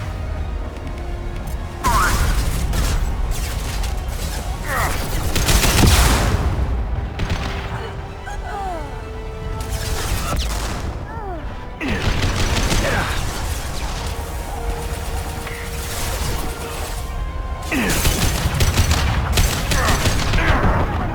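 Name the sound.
gunfire and concussive shot in the video game Mass Effect 2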